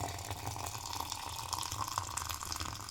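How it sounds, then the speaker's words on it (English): Hot water poured from a tap or kettle over basil leaves for tea, a steady close trickling rush with a low hum beneath, continuous throughout. "More hot water there."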